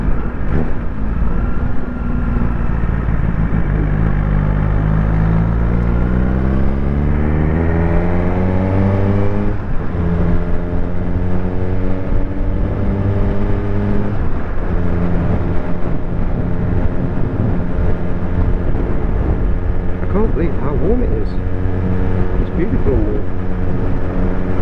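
A Suzuki GSXR1000 sports motorcycle rides on an autumn day, its engine droning steadily and rising and falling in pitch through the gears, with someone talking over the ride.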